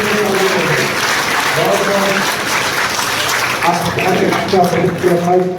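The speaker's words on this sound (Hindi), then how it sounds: "एक बार खड़े हुए ताली बजाए" Crowd on its feet clapping at a village political rally, a steady wash of applause throughout with a voice and shouts carrying over it near the end.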